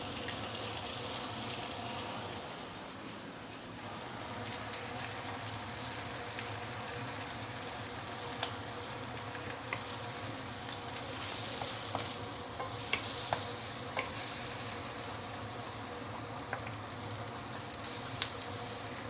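An egg sizzles in a stainless steel wok while fried instant noodles are pushed to the side, a steady close frying hiss with scattered small pops and crackles throughout, and no voices.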